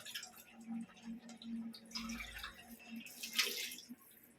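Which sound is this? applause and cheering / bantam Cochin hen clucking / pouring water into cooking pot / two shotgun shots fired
pouring water into cooking pot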